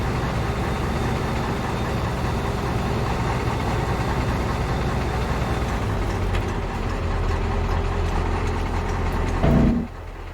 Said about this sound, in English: That sure is a pretty tractor.